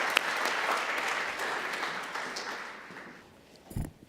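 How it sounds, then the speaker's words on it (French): An audience at the close of a three-day conference applauds the organizers. Dense, steady clapping swells, then thins and fades out over a few seconds, followed by a brief knock. "Je pense qu'on peut les applaudir."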